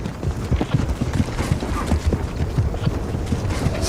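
A ridden horse's hooves clip-clopping in a quick, steady rhythm of dull thuds, close and continuous for several seconds with no speech.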